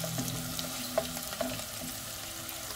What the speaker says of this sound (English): we're going to saute the onions with the Granny Smith apple